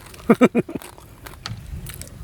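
Crisp bites into dry, crunchy roasted field rat skin give three or four sharp close crunches in quick succession, followed by softer chewing and faint mouth noises.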